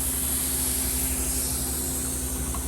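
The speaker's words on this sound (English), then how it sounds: "It's spitting and steaming" A pressure canner vents steam while canning homemade chicken broth, giving a loud, steady hiss with a constant low hum underneath and no voices.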